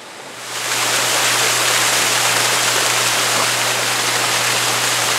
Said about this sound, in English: Here we are back at the waterfall.